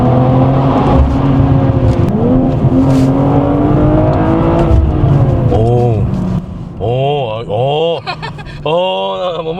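BMW M440i engine and exhaust droning steadily while driving through a tunnel, loud and close, with people talking over it throughout.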